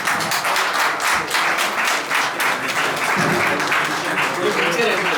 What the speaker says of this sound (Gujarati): જૈન ભાઈઓ તાળીઓથી વધાવી લો